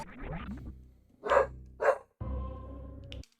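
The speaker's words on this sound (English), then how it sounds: "don't even know what she's even barking at this point." A pet dog barks indoors at night, a few separate sharp barks of varying length spread over a few seconds with quiet gaps between them.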